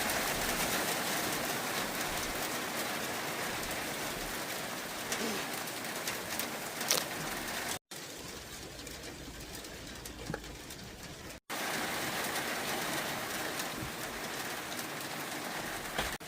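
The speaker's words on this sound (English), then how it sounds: "I hide in the garage from the rain" Steady, heavy rain pelting down nonstop with a dense wash of noise, and a pigeon cooing faintly in the background.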